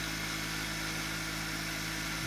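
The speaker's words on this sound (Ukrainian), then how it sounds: "мотор я запустив на обратній АДС." Toroidal electric motor running on reverse currents at high revs, above 3000 rpm, giving a steady, loud, unbroken hum and whine throughout, with no talk.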